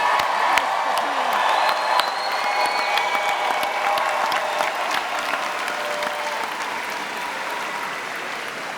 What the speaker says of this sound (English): let's have one more round of applause for our graduates